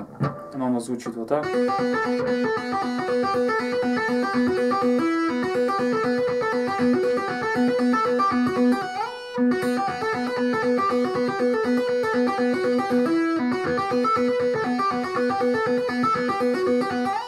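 Electric guitar solo picked on the second string over the main riff of a song, ringing continuously and loudly for most of the stretch after a brief spoken line at the start.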